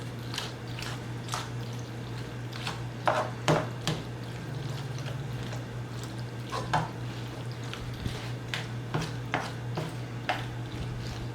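Imitation crab salad being stirred in a bowl, with soft wet squishing and scattered clinks of a utensil against the dish, steady and close over a low constant hum, no talking.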